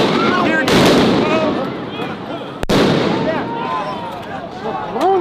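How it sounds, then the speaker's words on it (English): Flashbang stun grenades going off at a street protest, with sharp loud bangs around the start and middle over crowd noise, shouting and talk nearby. "They're throwing flashbangs up."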